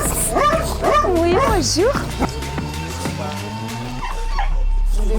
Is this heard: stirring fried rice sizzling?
no